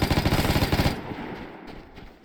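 Rapid automatic gunfire from an enemy in the online shooter Vigor, a loud dense burst of rattling shots for about a second that then drops to quieter distant rumble and ambience.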